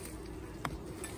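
Honey bees buzz around an opened hive during an inspection, a faint, steady hum close by with a brief knock partway through and no speech.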